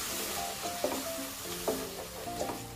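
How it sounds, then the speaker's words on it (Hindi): Tomato puree masala fries on a medium flame, a soft low sizzle under repeated spoon stirring strokes and light scrapes against the pan, fairly quiet and close. "इसे हम 2 मिनट तक मीडियम आंच पर भूनेंगे।"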